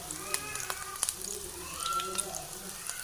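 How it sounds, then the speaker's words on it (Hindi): Chicken Chinese kebabs fry lightly in a pan with a soft, steady sizzle and scattered crackles and pops, close by, with faint voice sounds underneath. "तो बस हल्का सा इसे हमने फ्राई ही करना है"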